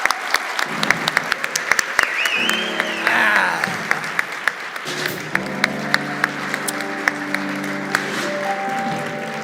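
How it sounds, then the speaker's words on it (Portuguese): A crowd claps steadily for several seconds, loud and close, the applause rising and then settling. "Palmas para ele, gente."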